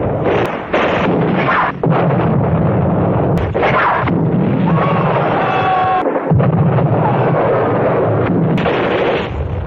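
Loud film-style gunfire and blasts crack and boom in repeated heavy bursts, with rumbling explosions and a rising whine between shots.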